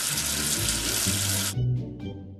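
Running tap water splashing loudly while soap is washed off a letter, a steady hiss that cuts off abruptly, followed by a few faint drips and handling sounds.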